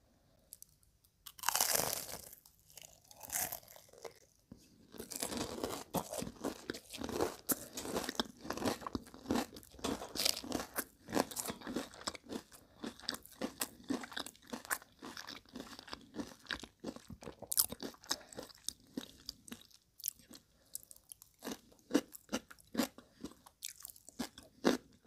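Close, crisp crunching of an extra-crunchy corn dog being bitten and chewed, repeated irregularly for a long stretch with brief pauses.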